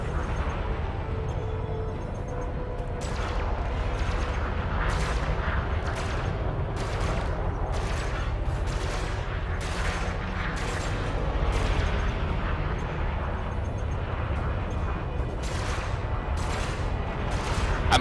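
Repeated sharp bursts of a plasma accelerator firing in Elite: Dangerous, spaced irregularly over a steady low engine rumble, fairly loud and with no talk.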